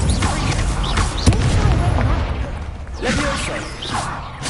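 The Incendio fire spell in the video game Hogwarts Legacy, heard as loud, dense whooshing flames and booming bursts that roll on continuously amid busy game effects.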